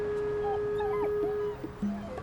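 A small dog whimpers and yips outdoors in cold weather, a few short high whines rising and falling close by, followed by a lower whimper near the end.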